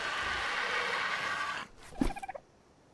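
An Argentavis, a giant bird in the survival video game Ark, gives a loud, harsh call followed by a short run of quick gobbling pulses that trail off into quiet.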